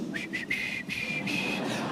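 A preacher imitates cheerful whistling with his lips during a sermon: a short, bright, wavering whistled tune in a few breaks, close and moderately loud, with no words over it.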